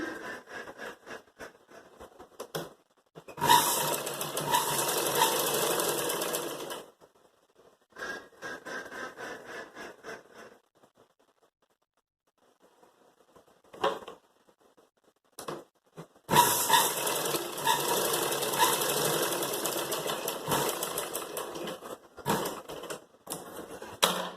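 A sewing machine runs in bursts while stitching a half-inch crosswise seam across the strap of a raglan jabla, with steady mechanical whirring runs separated by pauses and short starts.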